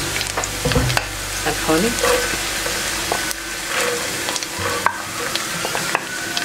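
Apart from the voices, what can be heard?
carrots stirred into frying onions, sizzling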